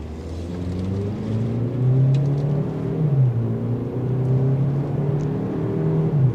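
A turbocharged 2025 Chevrolet Equinox RS pulls away from a stop, its engine droning smoothly and rising then settling in pitch under a steady, moderately loud hum from inside the car, with no speech.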